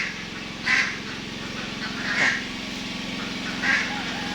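Three short duck quacks ring out at even intervals over a low, steady background hum, fairly faint and a little distant.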